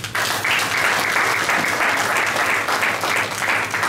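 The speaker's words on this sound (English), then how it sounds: "Let's give him a round of applause." Steady, loud applause fills a conference hall in Ghana as a speaker from a credit union is welcomed, dense clapping with light cheering sustained throughout.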